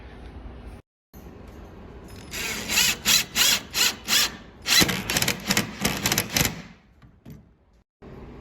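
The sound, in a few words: power drill driving screws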